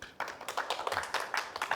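An audience claps at a medical sterilization seminar at KIMES Busan 2025: a quiet, steady run of sharp, irregular hand claps with no voices over them.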